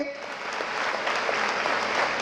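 A crowd claps in a dense, steady burst of applause that holds evenly throughout.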